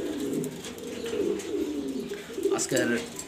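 Low, rolling coos of grizzle pigeons repeat steadily close by in a loft in Mirpur, Dhaka, with a few faint chirps and a brief voice in the background.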